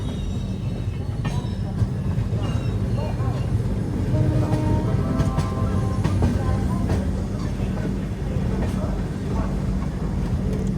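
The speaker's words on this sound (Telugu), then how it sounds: "అటు సైడ్ నుంచి తిరుక్కాళ్ వెళ్ళిపోతుంది." Thirukkural Express, the Kanyakumari–Hazrat Nizamuddin train, rumbles past on the neighbouring track near Jhansi, a steady loud roar of wheels and carriages heard from inside a moving train, with scattered voices in the background.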